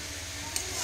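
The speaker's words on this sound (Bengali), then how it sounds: "কষানো চলছে, হাফ কষানো হয়েছে, আর তাতে দিলাম নুন।" Chicken braises and is stirred in a pan, making a steady, close sizzle with a faint scrape of the spoon.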